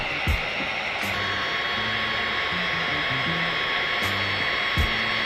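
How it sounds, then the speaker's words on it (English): A heat gun blows a continuous loud whirring hiss while warming window tint film on a car window, with low bumps and tones from handling underneath. "using a heat gun to put a little bit of heat in these top corners"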